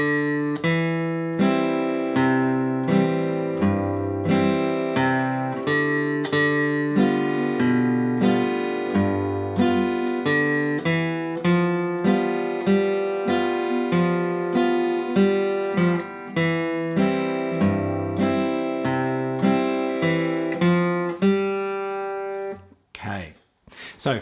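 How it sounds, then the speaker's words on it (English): Acoustic guitar picks the opening eight bars of Banks of the Ohio in Carter-style fingerpicking, bass notes alternating under strummed melody at a steady moderate pace, close and clear, ending with a quick strum. "So first 8 bars of Banks of the Ohio in this Carter style arrangement"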